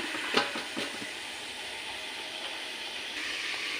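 Mixed vegetables with chopped tomato cooking down in a covered pan, giving a steady hissing sizzle with a couple of soft stirring knocks near the start, and no talk.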